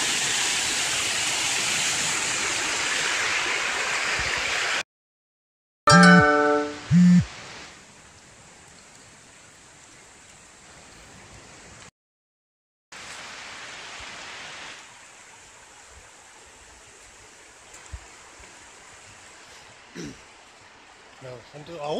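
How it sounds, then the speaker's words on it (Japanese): Rushing water of a mountain stream in Kikuchi Gorge, Kumamoto, flows steadily in the first seconds, then cuts away to quieter stretches with faint flowing water and a few brief knocks. "本当に水の流れが綺麗だな"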